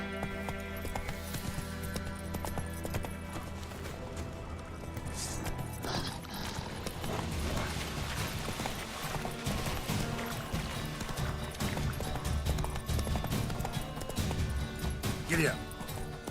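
Hooves of Roach, the horse in The Witcher 3, clatter in a quick gallop, partly masked by a voice talking and busy game sounds throughout.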